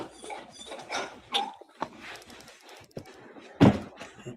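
A dog barks several times in short, sharp bursts of uneven loudness, the last one nearby and the loudest, with no talking.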